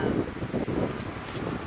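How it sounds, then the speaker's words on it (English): Wind buffets a microphone outdoors, making a loud, continuous low rumble and gusty roar throughout. "Oh, sorry, it's the wind."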